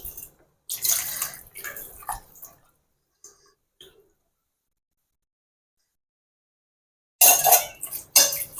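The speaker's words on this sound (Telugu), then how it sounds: "కాసిన నీళ్ళు పోసుకుందాం" Water is poured into a pan of tamarind-leaf curry in two separate bursts of splashing and pouring, with faint metallic clinks and a long quiet gap between them.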